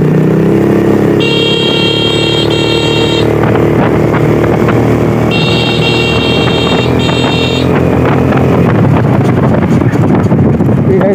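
A motorcycle rides along a road with winding turns, its engine drone loud and continuous under heavy wind buffeting, while two bursts of beeping tones rise above it.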